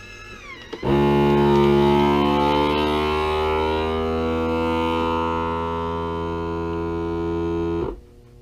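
A vacuum sealer runs on a bag of 25 American Eagle 5.56 62-grain FMJ cartridges, its motor holding one loud, steady, tonal drone for about seven seconds before cutting off abruptly.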